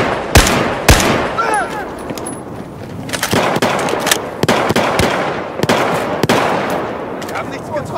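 Gunshots in Battlefield 4, sharp individual cracks fired irregularly over several seconds amid battlefield ambience, some louder and closer than others, with faint voices in between.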